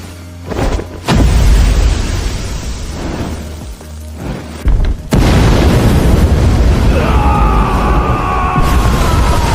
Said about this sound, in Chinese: 这叫粉尘爆炸